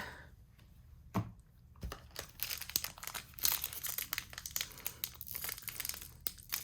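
A foil Pokémon Go card pack crinkles and crackles as it is worked open, in bursts of sharp, close crinkling with brief pauses between them, and no talking.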